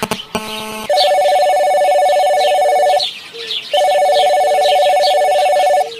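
A telephone rings loudly in two long electronic ringing bursts separated by a brief pause, preceded by a few sharp clicks, with no talking.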